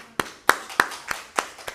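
Sparse claps in a church setting, six distinct sharp hand claps spaced unevenly, close and fairly loud, with quiet gaps between them.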